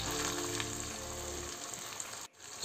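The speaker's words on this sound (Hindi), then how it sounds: "अदरक लहसुन के पकने के बाद इसमें हम 2 टमाटर को प्यूरी बना के डालेंगे" Tomato puree hitting a pan of sizzling ginger garlic paste for a veg handi, a loud steady frying hiss that softens, then briefly cuts out near the end.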